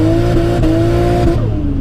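A car powered by a 2JZGTE engine pulls hard at full throttle in third gear, a loud, steady engine note with strong harmonics that holds close and constant, then sags and drops off near the end as power cuts out.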